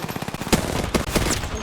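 Rapid automatic gunfire rings out in a shooting video game, bursts of loud cracks fired close together with a few heavier shots standing out.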